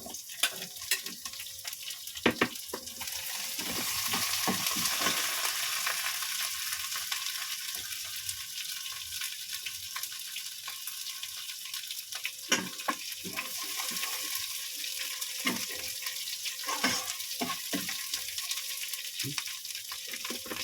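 Steady hissing sizzle of celery and meat being stir-fried for Mongolian barbecue, with occasional clicks and scrapes of stirring over a constant frying wash.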